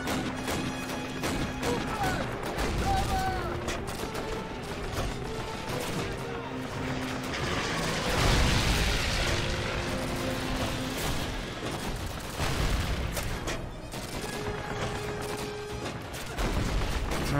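Cannon fire from a German 88 gun in Call of Duty: United Offensive, with heavy booms and crashing impacts over constant battle noise and scattered gunfire.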